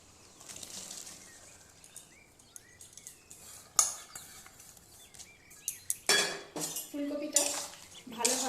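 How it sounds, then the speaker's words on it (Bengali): Cauliflower pieces drop into boiling salted water in a kadai. After a quiet stretch with light clinks, a run of sharp clattering splashes and plops comes close by, loud and irregular. "এবার ফুলকপিগুলো দিয়ে দিচ্ছি"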